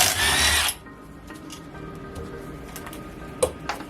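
An 8mm bolt on the EGR valve of a Renault Trafic F9Q 1.9 dCi intake manifold is spun out by a power tool in one loud close whirring burst, followed by quiet faint clicks and a small metallic knock.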